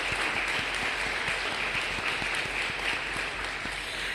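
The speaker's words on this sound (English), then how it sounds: "Let's give them applause." Audience clapping at a community grant announcement in Boston, a dense, steady wash of many hands that holds at an even level throughout, close and fairly loud with no talk over it.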